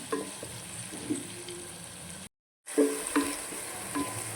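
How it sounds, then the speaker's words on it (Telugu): Onions fry in a pan with a steady close sizzle and a few scraping stirs, broken by a brief silent gap before the hiss resumes. "ఆనియన్స్ మంచిగా వేగాలి"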